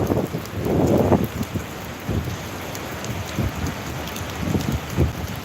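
Heavy rain pours in Papua in the late afternoon as strong wind gusts roar through, swelling into loud surges that come and go over a steady wash of falling water.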